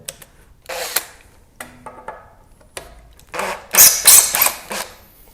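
A power tool backs tight screws out of wood during removal of a wall stud, giving bursts of loud grinding and whining that stop and start, with squeaky rubbing between them and a louder cluster of bursts near the end.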